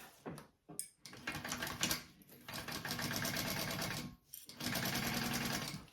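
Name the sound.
sewing machine basting fabric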